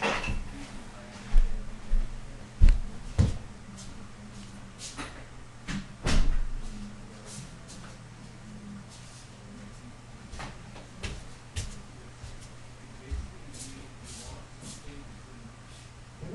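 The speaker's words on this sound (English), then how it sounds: "Hold on a second, I want to close this door." A room door is shut during an indoor talk, giving a few distinct knocking thuds and clunks with shuffling, while people speak intermittently around it.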